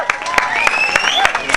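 Crowd applause at a float awards ceremony during the Nimbin MardiGrass parade, with sharp claps and cheering rising over a loud outdoor crowd while a voice talks on top.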